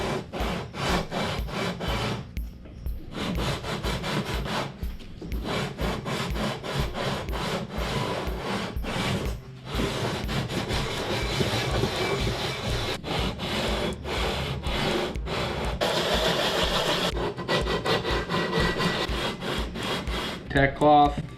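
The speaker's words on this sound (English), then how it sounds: "We're gonna sand off the little bits." Paint bits are sanded off with 320-grit sandpaper, a continuous rhythmic scratchy rasp of hand strokes, close and fairly loud, with a few brief pauses.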